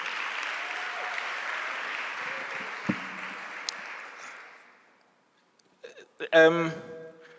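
A book and art fair audience gives young people a round of applause, steady clapping that dies away after about five seconds before a voice begins speaking.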